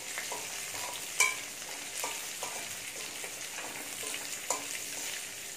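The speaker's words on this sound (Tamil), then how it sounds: "இது நல்லா பொரிஞ்சு வதங்கணும்." Crab curry masala fries quietly in a pan, a soft continuous sizzle broken by repeated stirring scrapes at a regular pace, with one or two sharper clinks of the spoon.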